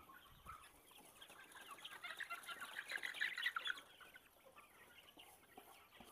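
Forty-day-old native kampung and ulu chickens cluck and chirp softly in their pen, a faint murmur that swells into a busier burst of calls midway before settling again.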